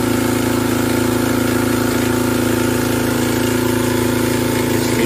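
The engine of a well drilling rig at an Islamic boarding school, Pondok Pesantren Al-Furqon, drones loudly and steadily with a constant mechanical hum and no pauses.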